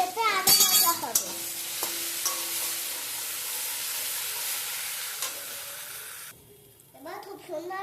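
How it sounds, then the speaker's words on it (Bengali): Jackfruit curry paste being stirred and brought to a boil in a pan, with a steady sizzle and bubbling under utensil scrapes and a sharp clank early on; a voice speaks briefly at the start and again near the end. "পুরো পেস্টটাই তুলতে হালকা একটু নেড়ে চেড়ে নেব এবং ফুটিয়ে নেব"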